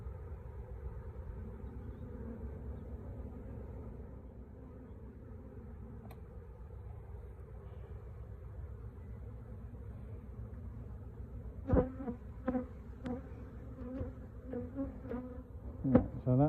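Honey bees swarm around a hive box during swarming season, a continuous low buzzing drone close by, joined later by a few louder knocks and rustles near the box.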